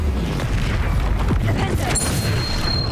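Bombarda blasting spell explosion in the Hogwarts Legacy video game, a dense, loud low boom with rumbling debris and crackle filling the whole moment.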